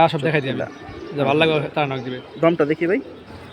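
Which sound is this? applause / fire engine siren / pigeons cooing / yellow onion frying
pigeons cooing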